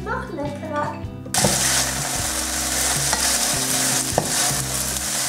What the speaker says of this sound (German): Und jetzt kommen nämlich die eingelegten Nudeln mit Sojasauce hier rein. Das wird gleich nämlich noch anfrittiert